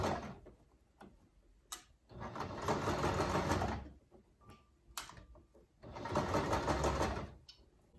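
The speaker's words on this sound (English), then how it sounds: "So our next step is to sew on our elastic." Sewing machine stitching a medical cap, two close bursts of quick rhythmic needle clatter of about two seconds each, separated by pauses with light handling ticks and clicks.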